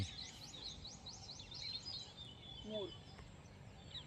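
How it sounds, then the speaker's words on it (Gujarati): Red-wattled lapwing calling near a Narmada canal in open farmland, faint repeated piercing notes in a quick series, heard distant over steady outdoor background hiss. "અને ત્યાં આગળ ટેટડી છે"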